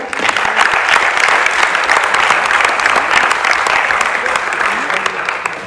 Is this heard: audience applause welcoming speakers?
yes